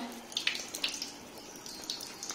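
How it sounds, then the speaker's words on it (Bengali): Tap water runs while hands are being washed, a faint, brief trickle and splash with a few sharper spatters over a quiet background. "তাড়াতাড়ি হাত ধুয়ে নাও"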